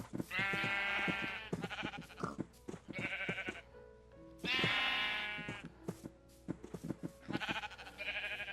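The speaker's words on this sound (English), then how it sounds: "We just keep adding to the sheep pile." Sheep in the Minecraft video game bleat repeatedly, several loud wavering calls in quick succession with short pauses between them, close and clear with no talking.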